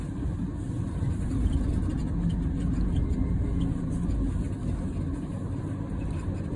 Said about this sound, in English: Some regen coming up to this stop sign. Some braking and turning.